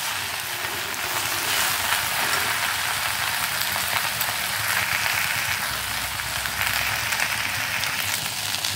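Okra for a vendakkai poriyal stir-frying in a pan over medium heat, a loud steady crackling sizzle like heavy rain that runs unbroken throughout.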